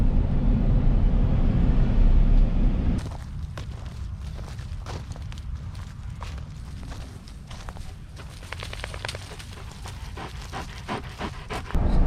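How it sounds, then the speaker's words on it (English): Dogs at a dog park pant rapidly and rhythmically up close, following a few seconds of low rumbling wind noise, with scattered footfall-like taps throughout. "Spoiled ass dogs going to the dog park every day."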